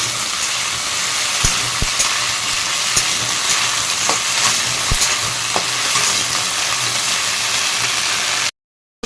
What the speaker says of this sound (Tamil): இதை வந்து கொஞ்சம் நல்லா நம்ம வந்து ஃப்ரை பண்ணி எடுத்துக்கலாம்